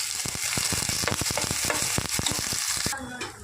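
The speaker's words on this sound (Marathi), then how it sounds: "त्यामध्ये हे वाटण छान असं टाकून परतून घ्यायचं" Masala paste sizzles and spatters loudly in hot ghee on a gas stove, a dense frying hiss broken by sharp stirring clicks, easing off slightly near the end.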